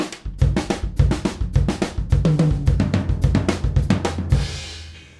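A displaced groove played on a drum kit, with sharp snare hits and deep bass drum thumps falling in a steady, syncopated pattern of closely spaced strikes. It ends on a ringing cymbal crash.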